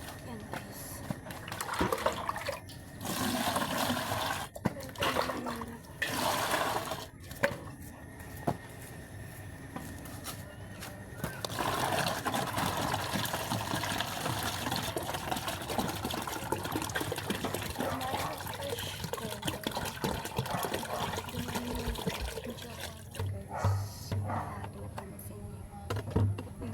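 Water pours and trickles steadily at close range, with brief pauses, while a person talks over it.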